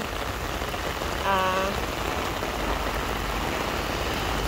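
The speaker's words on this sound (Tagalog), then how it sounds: "So ngayon ay black rain dito sa Hong Kong." Heavy black-rainstorm rain pours down steadily throughout in Hong Kong, a dense hiss of drops hitting surfaces, with a brief faint whistle-like tone early on.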